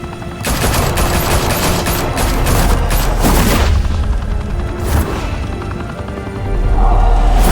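Loud, sustained gunfire from a Batman choose-your-own-adventure game, with rapid automatic bursts and heavy booms blending into a dense roar that swells further near the end.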